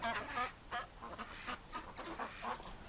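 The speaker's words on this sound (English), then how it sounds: "The ducks are starting to go in." Ducks at a farm quack and honk repeatedly at dusk, a busy chorus of short nasal calls at moderate distance.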